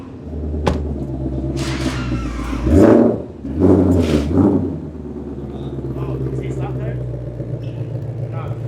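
A white Ferrari GTC4 Lusso on polished offset wheels pulls away, its engine rumbling steadily with two louder surges of revving, while people talk nearby.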